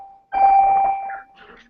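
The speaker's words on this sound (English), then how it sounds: "Is that the beeps? I don't know what. I think that might be elevator." Electronic elevator beeps, heard as a steady tone followed by one louder bell-like chime that fades, with a faint voice near the end.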